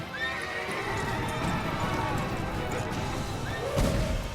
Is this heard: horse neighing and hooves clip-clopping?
yes